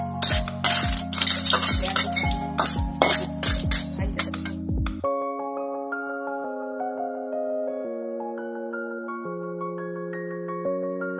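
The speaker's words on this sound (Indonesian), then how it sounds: "Kita mau masukin ke dalam kuali yang udah disiapin bumbunya nih." Sea snails are tipped into a wok of cooked spice paste, making a hard clattering and clinking of shells against metal for about five seconds before gentle melodic music takes over.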